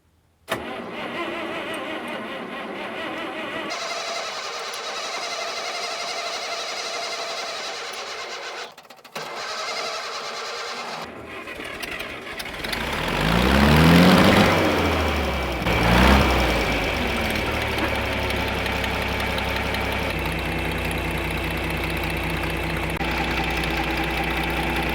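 A gasoline John Deere 4020 tractor engine starts, then throttles up with a rising, revving roar before settling into a steady, loud idle nearby.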